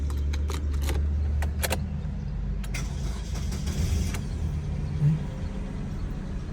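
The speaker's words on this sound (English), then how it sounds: "Start the car." A car engine cranking and catching after its key's ID48 transponder chip is cloned onto a VVDI super chip, preceded by key jangling and clicks, then a steady low idle rumble settling in close by.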